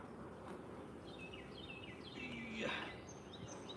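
Honeybees hum softly around open hives during a beeyard inspection, a faint low buzz with a louder insect passing close midway, while a bird calls lightly in the background.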